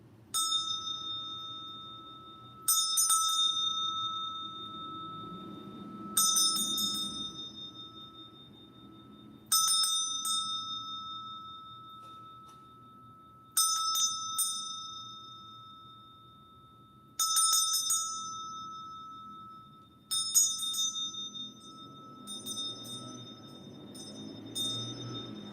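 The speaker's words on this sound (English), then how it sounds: "I'm just gonna ring the bell a couple of times." A bell rung about seven or eight times in steady succession, each strike bright and ringing out before the next, clear and alone over a faint low background hum.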